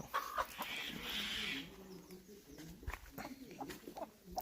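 Mixed-breed chickens on a poultry farm cluck and murmur intermittently at moderate distance, fairly quiet, with a person talking over them and occasional clicks and rustles.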